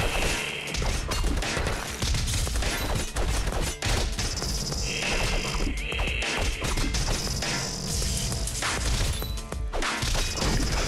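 Bomb blasts and crashing combat effects from the video game Castle Crashers, a dense, continuous barrage of smashes and thuds with game music, loud throughout with no pauses.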